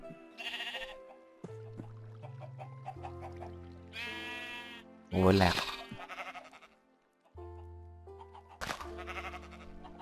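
Minecraft sheep bleat several times, loud and close, with short nasal cries spread through a mostly quiet scene. Clucking fowl and a voice are also heard.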